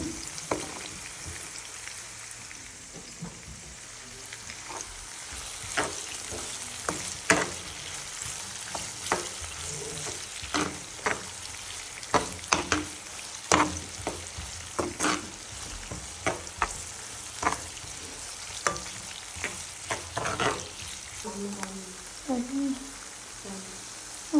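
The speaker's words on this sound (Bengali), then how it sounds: "তো পেঁয়াজটা ভাজা হয়ে যাক" Onions fry in a pan with a little salt, a soft continuous sizzle broken by repeated scraping and stirring clicks at an uneven rhythm, heard close and fairly quiet with no talk.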